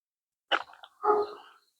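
A dog barks twice in quick succession, a short sharp yap followed by a fuller bark, fairly close in otherwise quiet surroundings.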